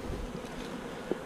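Honey bees buzz steadily around hives in a beekeeping yard, a close, continuous drone with one brief louder pass near the end.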